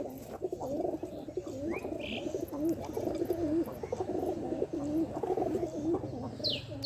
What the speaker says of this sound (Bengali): খাবার দেওয়ার সাথে সাথে সবগুলো কবুতর একসাথে হয়ে গেছে খাবার খাওয়ার জন্য